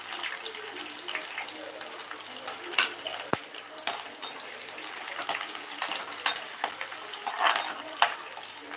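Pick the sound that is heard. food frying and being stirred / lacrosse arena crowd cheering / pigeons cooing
food frying and being stirred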